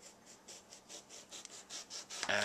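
A knife slices eggplant into quarter- to half-inch rounds for eggplant parmesan, making about ten quiet, evenly spaced cutting strokes, then a louder clattering burst at the very end.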